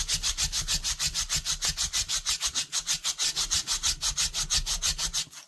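Rhythmic, steady rasping strokes as a rubbing tool is dragged back and forth along an old salvaged camper knife blade, cleaning both sides at once; close and continuous, roughly five strokes per second, with no talk.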